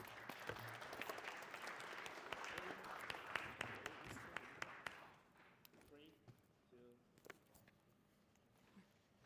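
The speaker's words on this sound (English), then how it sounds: "Give her a round of applause," An audience at a live startup pitch event bursts into a round of applause that stays dense and loud for about five seconds, then thins to scattered claps and a few voices in the room.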